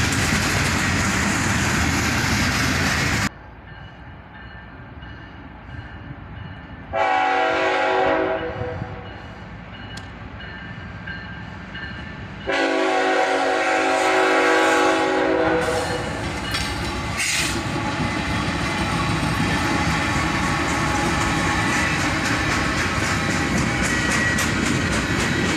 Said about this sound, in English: another train caught right at sunrise with an SD40-2 leading